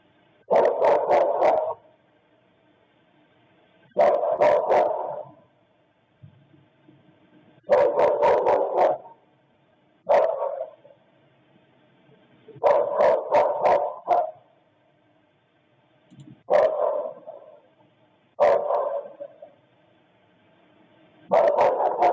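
A dog barks in repeated bursts of several sharp barks, separated by short pauses, loud and clear over a phone line with no talking.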